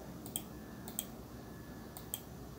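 Computer mouse clicks during editing in Premiere Pro, a few faint, crisp clicks in closely spaced pairs over a steady low background hum.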